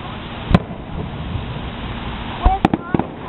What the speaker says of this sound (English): Okay, so there's some fireworks